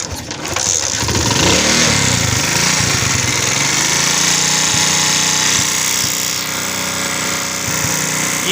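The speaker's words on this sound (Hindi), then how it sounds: "ये दोस्तों हमारी पहली से दूसरी किक में मोटर बाइक स्टार्ट हो गई है" A motorbike with a fixed spark plug current fault is kick-started and keeps running, a loud, close, continuous engine clatter with a slight drop in pitch as it settles to idle, no voices.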